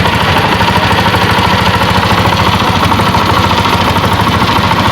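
A Honda CG125 motorcycle engine idles steadily after an idle speed adjustment, a loud, close, even mechanical chug with constant vibration and no talking.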